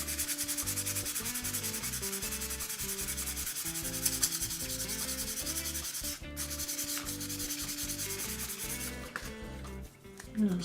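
Hand sanding the wood of a replica guitar, a close, steady rasping rub with even back-and-forth strokes that runs almost without a break, briefly pausing near the middle.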